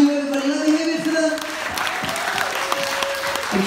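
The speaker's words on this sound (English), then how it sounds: "Can we give a massive round of applause to your Saturday Lighting team, your backstage crews, your front of house, your box office" Theatre audience applauding the lighting team, backstage crews, front of house and box office at the Trinity Arts Centre in Gainsborough, a steady wash of clapping with a voice speaking over it throughout.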